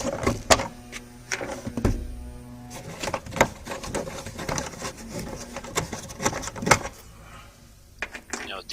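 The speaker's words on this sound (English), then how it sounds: "And now I'm unscrewing these two plastic screws at the back of the trunk." Two plastic screws being unscrewed at the back of the trunk of a 2004.5 Volvo S40, heard close up as a run of sharp clicks, creaks and short whirring bursts with brief pauses.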